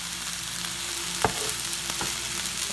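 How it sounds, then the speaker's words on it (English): Fried rice with egg and soy sauce sizzles steadily in a pan while a spatula stirs it, with a few sharp scrapes and clinks against the pan over the constant frying hiss. "Gonna give my rice another stir"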